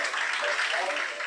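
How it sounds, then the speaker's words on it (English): Applause from the audience at a business awards ceremony, a steady dense wash of clapping throughout that stays fairly even and moderate in level, with no voices breaking through. "Bigger round of applause, please."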